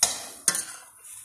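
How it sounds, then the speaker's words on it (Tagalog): Vegetables frying in a pan for chicken menudo are stirred, giving a scrape at the start and a second scrape midway over a soft sizzle, close and fairly loud with no talk. "Yan, haluin natin."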